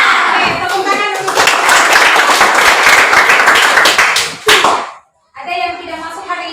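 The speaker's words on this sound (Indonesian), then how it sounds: "Oke, tepuk tangan dulu." A class of schoolchildren clapping hands together in a classroom, loud dense rhythmic clapping for several seconds that stops abruptly, with children's voices mixed in and a brief burst of talk after.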